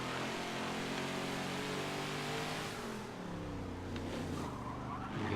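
A race car in Forza Motorsport 7 fishtails with its engine droning, then its tires skid and squeal briefly near the end, all at a moderate level with no talking.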